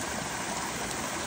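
Spring water pours steadily from an old village water spout fed by a large tank, a close, continuous rushing splash with no pauses or voices over its short span.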